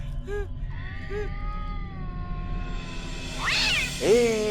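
A cat in a village meows several times, with short calls early on and then a louder, rising yowl near the end, over background murmur.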